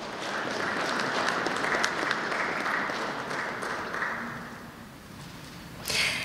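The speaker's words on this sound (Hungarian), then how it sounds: "Teljesen jogos a taps." An audience applauds at a university senate ceremony and diploma award event, with dense sustained clapping that swells, then gradually fades and thins out toward the end, heard from across a large hall.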